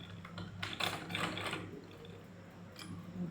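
A sewing machine stitches cloth for a salwar, giving quiet, uneven bursts of rapid mechanical rattling at close range over a low steady hum, with no talk.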